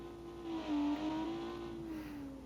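A video game crew-cab pickup's big inline-six engine revs up and holds a droning, rising tone for a couple of seconds, steady and fairly close, with no one speaking.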